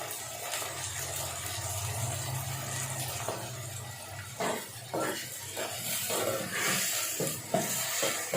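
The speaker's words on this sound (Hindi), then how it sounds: "मटर को हम लोग थोड़ी देर फ्राई करेंगे।" Peas with a spoonful of ground ginger-garlic paste fry in a pan. A soft, steady sizzle runs underneath while a spoon stirs and scrapes in irregular knocks, fairly quiet and close.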